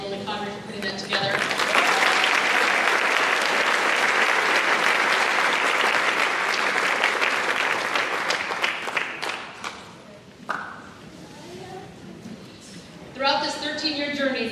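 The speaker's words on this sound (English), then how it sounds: "if we give a round of applause to Ellen Hinkey and Lily Conner for putting that together" Graduation audience at the Earlham 2024 ceremony breaks into sustained loud applause from a large crowd, holding steady for several seconds before fading, with a speaking voice returning at the end.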